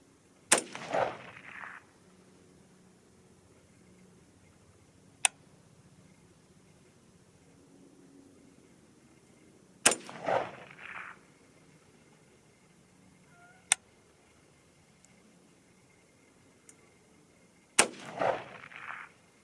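Three loud, sharp rifle shots from a .223 Rem AR-15, widely spaced several seconds apart, each followed by a short echoing tail, with faint ticks in between against a quiet outdoor background.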